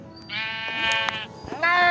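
Sheep in the video game Minecraft give drawn-out bleats, two overlapping wavering calls close and clear, the second rising sharply at the end.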